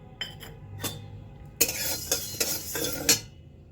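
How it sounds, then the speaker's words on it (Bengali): Red chillies and fenugreek seeds dry-roasting in an empty kadai, stirred with a metal spoon: a few light clinks, then a run of sharper scrapes and knocks against the pan, close and fairly quiet. "এদিকে কড়াই চাপিয়ে শুকনো কড়াইয়ে প্রথমে আমি লঙ্কাটাকে ভেজে নেব।"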